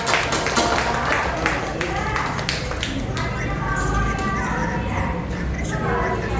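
A small group of people in a room gives a short round of clapping, with sharp claps bunched in the first few seconds before fading under murmured voices.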